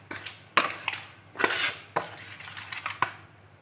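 A spoon clinks and scrapes against a bowl while chicken marinade with lemon is mixed, several sharp metallic taps and scrapes in an irregular rhythm, close and fairly quiet with no talk.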